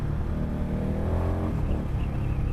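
A 2018 Indian Scout Bobber motorcycle engine blips and revs during a clutchless downshift, a steady, close mechanical drone whose pitch climbs briefly and then drops back, with no voices over it.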